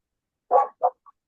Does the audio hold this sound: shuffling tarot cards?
no